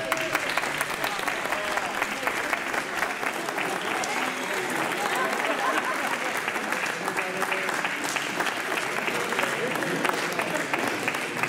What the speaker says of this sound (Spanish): Un aplauso fuerte para José Antonio Prieto.